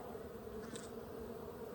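Africanized bees hum steadily around a shed floor being torn out in southern Arizona, a continuous close buzz with no voices.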